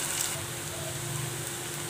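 Chopped onions sauté in a pan until lightly pink, a soft, steady sizzle close by, faint and even for a couple of seconds with no distinct crackles or voices.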